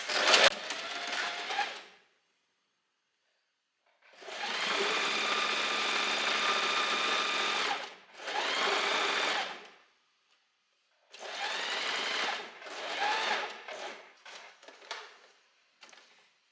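A sewing machine stitches a seam along the folded edge of a dress strap in several separate bursts of fast, steady whirring, each running a few seconds and broken by short silent pauses, the last bursts more choppy.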